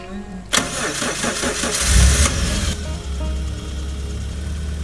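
A fuel-injected car engine cranks briefly and fires, then settles into a steady close idle with a deep rumble, heard alone without speech.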